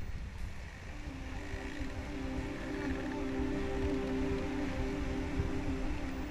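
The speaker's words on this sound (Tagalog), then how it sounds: "Sa halip ng motor, hampas ng alon lang ang madidinig at ang paghigop ng hangin ng layang." Wind rushes and waves wash steadily around a paraw, a traditional outrigger sailboat moving at sea without a motor, forming a constant broad roar with a faint tonal hum and no clear speech.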